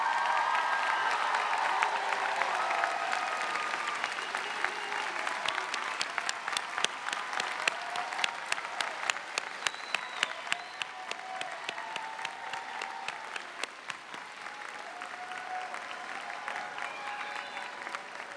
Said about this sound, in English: And lead us in applause for your families and friends.